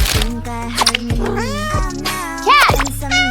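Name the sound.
cat meowing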